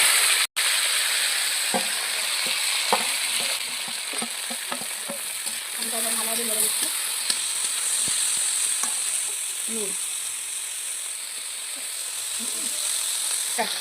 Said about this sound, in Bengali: এরপর আমি কড়ায় তেল দিচ্ছি। এরপর আমি এতে দেব আলু।